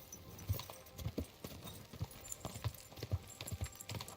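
Hooves of a horse in the video game Kingdom Come: Deliverance II beat in a steady, rhythmic clip-clop, fairly faint and evenly spaced, with no speech.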